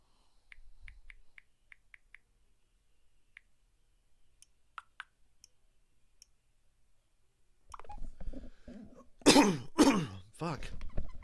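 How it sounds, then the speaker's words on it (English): After a stretch of faint scattered clicks, several harsh, rough coughs burst out close by near the end. "I feel like I've been coughing for a week."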